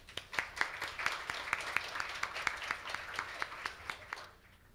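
Audience applause at an academic forum in Seoul welcomes a Sorbonne University director to the podium, a steady patter of many hands with sharp individual claps standing out, fading away near the end.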